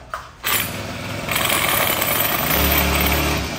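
A GX35 four-stroke grass cutter engine pulls into life after a brief pause, then runs loud and close with a buzzing, rattling drone that builds in revs and holds steady, with no speech over it.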